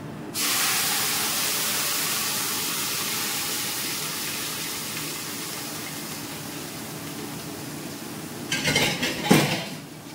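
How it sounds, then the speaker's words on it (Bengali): Boiled kidney beans are tipped into a pan of browned fried onions: a sustained hiss of steam and sizzle, with a burst of clattering utensil and pan knocks near the end. "এবার আমি এই যে রাজমাটা দেখো বয়েল করে রেখে দিয়েছিলাম সেটা দিয়ে দিচ্ছি।"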